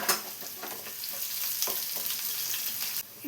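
Chopped shallots sizzling and frying in hot coconut oil with popped mustard seeds, a steady close crackle with small stirring bursts throughout, no voices.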